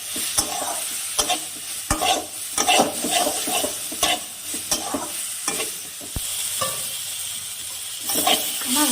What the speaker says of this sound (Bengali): এখন এখানে হলুদ গুঁড়ো দিয়ে দিব আর ফুলগুলো দিয়ে দিব, দিয়ে ভালো করে এটা কষিয়ে নেব।